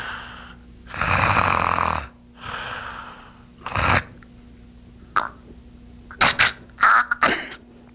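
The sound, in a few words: snoring with pauses in breathing, obstructive sleep apnea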